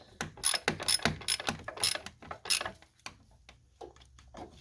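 A hand ratchet tightens a bolt on a Hyundai/Kia 1.6 GDi engine. Close, rapid clicking comes in several quick bursts, then a few softer, slower clicks near the end, with no voices.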